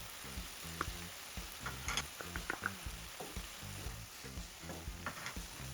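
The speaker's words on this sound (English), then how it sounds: "And the minced garlic. Saute for a minute" Minced garlic sautés in a pan for a mushroom and sweet potato japchae, giving a steady close sizzle with scattered crackles and the scrape of stirring throughout.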